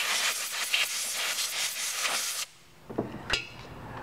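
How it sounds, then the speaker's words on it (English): A blast of compressed air hisses loudly and steadily for about two and a half seconds while debris is blown off the camshaft sensor bore of a Mitsubishi Galant, then cuts off, followed by a few light metallic taps. "So we'll take a little bit of air and blow it off."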